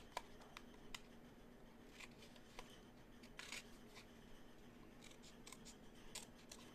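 Paper being cut with scissors while making a New Year's Eve card, a quiet run of soft snips and crisp clicks scattered through, with no talk.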